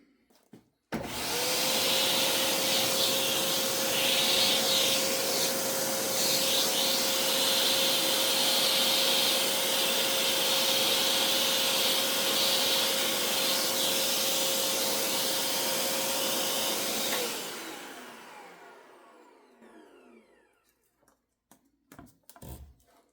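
A vacuum cleaner used on a model railroad layout switches on, runs with a loud steady whine and roar for about fifteen seconds, then winds down, followed by faint clicks.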